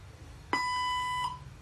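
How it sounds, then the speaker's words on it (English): A robotic language translator gives a single clean electronic beep with bright, steady harmonics. It lasts under a second over a faint background hum and ends with a short tail. "Krishna, please speak in Hindi after the beep, or say exit after the beep"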